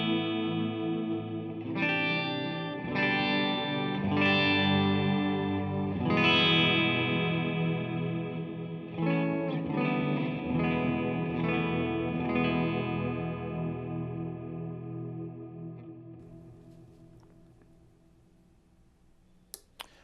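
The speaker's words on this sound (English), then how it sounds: "you can get a little more brittle tape delay that's cutting through with some cool tape style modulation on it." A guitar played through a JHS Pink Panther tape delay pedal with wobbly tape-style modulation picks several ringing notes and chords whose repeats smear and trail off into a slowly fading tail.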